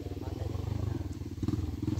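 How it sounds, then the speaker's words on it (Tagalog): A motorcycle putters past nearby with a steady, rapidly pulsing engine throb that swells slightly toward the end, amid light outdoor background noise. "Oh, may motor, may motor."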